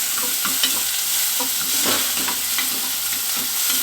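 Baby biryani ingredients are sautéed lightly with a ladle in a pan, a soft steady sizzle with scattered scraping stirs, close and continuous, no voices.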